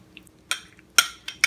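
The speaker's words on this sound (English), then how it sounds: "let's go ahead and stir our little sauce that we just made" A spoon clinks against a bowl while stirring a freshly made spicy sauce, four sharp metallic taps spaced through the moment, close and clear over a quiet room.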